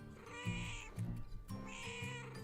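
A cat meows twice in clear, drawn-out cries, each a rising then falling wail, close to the microphone with no talking.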